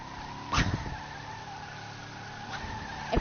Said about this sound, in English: Just revving it.